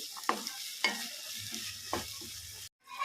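Chopped garlic and ginger cook in hot oil in a pan for a paneer and peas curry, a soft sizzle broken by a few scraping stirs of a spoon, close and quiet with no talk.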